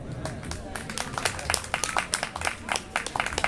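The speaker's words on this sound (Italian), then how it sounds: "Un applauso." An audience at a music performance in Bologna claps, with dense, irregular hand claps sustained throughout, fairly close and lively.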